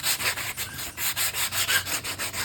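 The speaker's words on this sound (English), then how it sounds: "Pasted, and then sanding." Rhythmic back-and-forth sanding of the wing tips of a scratch-built RC plane, close and steady, with quick scratchy strokes repeating evenly and no voices.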